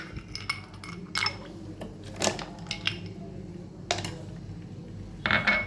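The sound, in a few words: ice cubes dropped into milk for Oreo shake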